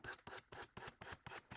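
A blade stroked back and forth on an abrasive whetstone while removing the burr, seven quick rasping passes in a steady rhythm, close and quiet with no talk.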